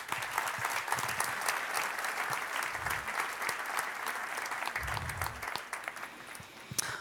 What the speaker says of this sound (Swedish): Men under tiden ger vi dig en varm applåd.